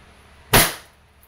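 A single sharp, loud crack as a WE airsoft Glock 17 Gen 5 fires one shot through a chronograph, with a brief fading tail and quiet otherwise.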